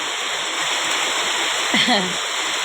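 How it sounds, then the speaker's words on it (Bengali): Rainwater gushes steadily from a pipe into a flooded courtyard during ongoing rain, a continuous rushing, splashing wash of water heard up close, with a brief voice rising over it near the end. "পাইপ দিয়ে পানি যাচ্ছে"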